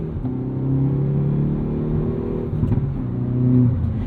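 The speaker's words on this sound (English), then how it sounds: "Crisp, satisfying, perfect shift every time." A 2022 Hyundai Veloster N hot hatch with a six-speed manual, 275 horsepower and active rev matching, its engine droning loudly and steadily, then a brief dip and blip as it shifts gear before pulling on again.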